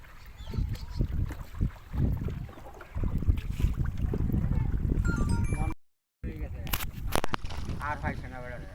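A small boat moves across floodwater in a flooded village area. A broad, rough rush of water and wind runs throughout, with one brief dropout to silence. Voices talk over it.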